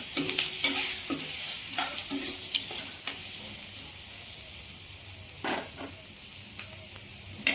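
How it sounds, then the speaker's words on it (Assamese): Potato pieces fry with turmeric in a pan for a spicy curry, giving a continuous sizzle broken by scraping stirs of a spoon against the pan, close and moderately loud, with no speech. "এই আলুখিনি ইয়াতে মই ভাজিছোঁ।"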